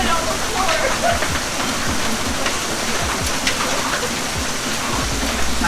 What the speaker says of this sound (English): That is not supposed to do that. That is a waterfall.